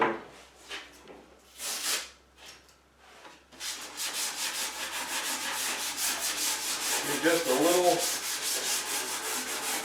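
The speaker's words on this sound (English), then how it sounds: "hand sanding on this because it's a little burred in places." Hand sanding on a wooden Murphy bed being prepped for paint, with slight burrs on the surface: sporadic close rubbing strokes at first, then a steady run of rapid back-and-forth scrubbing, with a brief spoken phrase near the start.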